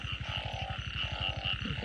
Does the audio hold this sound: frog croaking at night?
yes